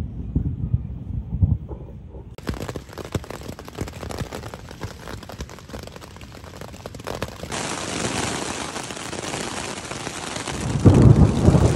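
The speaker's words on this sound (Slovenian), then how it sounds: "Upam, da bo to le ena kratka nevihta." A thunderstorm breaks over a trekking camp in Hungary. Steady rain hammers down, growing heavier partway through, and a deep roll of thunder rumbles near the end.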